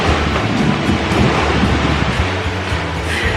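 Heavy rain and strong waves at a night campsite in Montjai-Salua: a loud, dense, continuous roar of rainfall and surf, with low rumbling swells and no voices.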